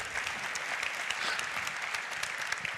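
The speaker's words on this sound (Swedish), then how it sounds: "tack för den varma applåden" Warm audience applause at a business day event, dense steady clapping from a full crowd that fills the whole stretch with no voices over it.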